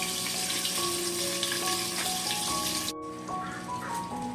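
Tilapia paturi wrapped in pumpkin leaves fries in oil on a low flame, making a dense and steady sizzle with faint crackles. The sound drops slightly partway through, then carries on just as evenly.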